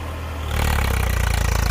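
A Swaraj 855 tractor, a two-wheel-drive model, runs in first high gear while working a field, its diesel engine throbbing loud and close and rising to a steady, rhythmic pulsing labor.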